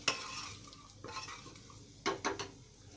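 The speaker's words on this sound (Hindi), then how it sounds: "तो घी डालने के बाद हम इसे अच्छे से चला लेंगे" A spoon stirs rice with ghee in a pan, giving scraping, clinking strokes in a few short bursts near the start, around one second and near two seconds, close and moderately loud with a light sizzle underneath and no talking.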